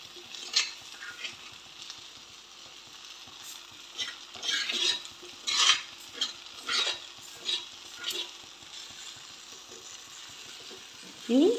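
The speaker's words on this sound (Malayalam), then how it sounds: "ഇനി ഇതൊന്ന് ഇളക്കിയെടുക്കാം" Spicy mango pickle soaked in vinegar is stirred in a pan, giving a series of rhythmic scraping and clinking strokes against a low sizzle, close and fairly loud, with a brief voice at the end.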